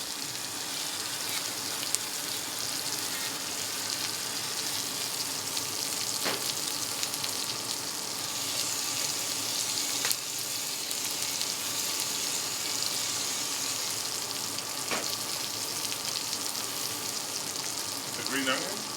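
Garlic and steak (porterhouse and ribeye) frying on a flat griddle top, a steady dense sizzle filling the whole stretch with a few faint scrapes and clicks, close and continuous with no talk.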